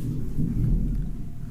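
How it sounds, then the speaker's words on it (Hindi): Low thunder rumbles through a rainstorm in a brief, muffled burst that swells and fades. It sounds distant, with no voices. "आपको सुनाई दे रहा होगा ना, बिजली कड़क रही है।"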